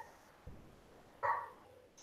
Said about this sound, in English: Is there a dog in your background?